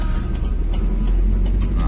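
A Toyota Kijang Krista engine fitted with a Blackcore drones loud and low from inside the car under acceleration, a dense continuous roar holding steady through the short stretch.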